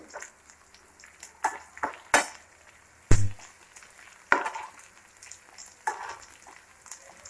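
A chopped onion fries in a pan for Tamil-style bitter gourd varuval, sizzling softly throughout and broken by sharp scrapes and clacks of stirring, one heavy knock near the middle, close up and with no voices.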